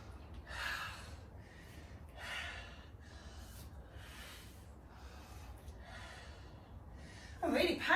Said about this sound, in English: I'm really panting